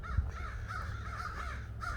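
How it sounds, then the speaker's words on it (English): Crows cawing outdoors on a nature walk with light traffic, several harsh repeated caws at moderate distance over a low steady rumble of background noise. "It's like the land of the crows today."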